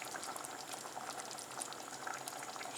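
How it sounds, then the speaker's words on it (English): Meatballs in tomato sauce bubble steadily in a pan, a dense, continuous simmering crackle with scattered small pops, close and moderately loud, with no talking. "Quite steamy, bubbling away."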